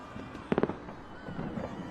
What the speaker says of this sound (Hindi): ये पूरी आतिशबाजी और आधे शहर में खलबली मची है